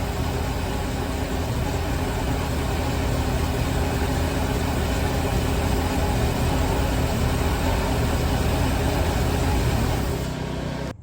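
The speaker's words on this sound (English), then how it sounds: "here's a video of the starboard side engine running." The starboard engine of a 1995 31-foot Silverton yacht runs steadily, a dense, loud, unbroken rumble that carries on evenly before cutting off at the very end.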